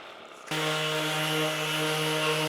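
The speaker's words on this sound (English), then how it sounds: "I'm gonna sand this off, see what it looks like." A power sander starts abruptly and runs at a steady, loud, close whine while taking lacquer off a guitar headstock, stopping sharply after about two seconds.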